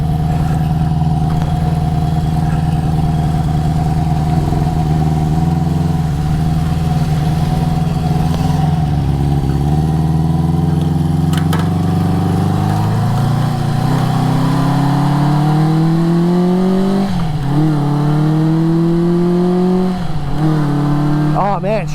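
A 1973 Honda CB350 Four motorcycle engine runs steadily while riding, its tone climbing as it revs and dropping at each gear shift, repeated several times across the run with wind rush underneath.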